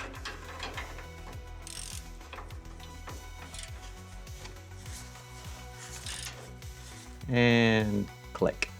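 A torque wrench tightens the front-end bolts on a van during an Action Van kit installation. Close, rhythmic ratcheting clicks repeat throughout, with a louder, denser mechanical burst near the end and a voice talking in places.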